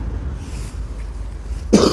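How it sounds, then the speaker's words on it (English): One short, sharp cough from a person digging at an old Victorian/Edwardian bottle dump, close and loud near the end after a quiet outdoor stretch. "Cough, cough."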